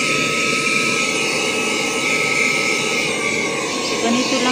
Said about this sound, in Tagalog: ito naman ang ibabacuum natin sa likod guys